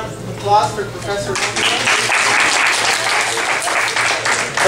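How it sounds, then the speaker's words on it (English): Audience at a live illusionist's magic show at a martial arts gym breaks into loud, dense applause after a presenter's voice, the clapping swelling and continuing to the end. "Give a nice round of applause for Professor"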